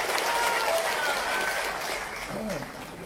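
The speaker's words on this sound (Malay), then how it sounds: "Orang Beluran dia tepuk tangan ini." Crowd clapping at an outdoor political gathering in Beluran, Sabah, a steady wash of applause at moderate distance with a voice briefly heard near the end.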